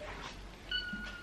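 A house cat gives a short, soft meow close by, a single brief call over quiet room tone.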